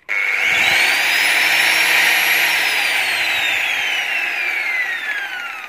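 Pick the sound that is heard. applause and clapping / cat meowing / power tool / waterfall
power tool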